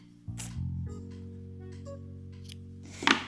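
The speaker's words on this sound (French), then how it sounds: "Je vais couper ce fil." Scissors snip through sewing thread after a small double knot is tied on a handmade rabbit figurine, a short close cut near the end, with quiet background before it.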